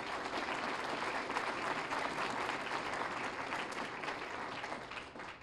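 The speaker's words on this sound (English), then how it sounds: "Let's give them a round of applause." Sustained audience applause at an alumni awards ceremony, a thick, even roar of many hands clapping in a hall, steady and fading slightly at the close.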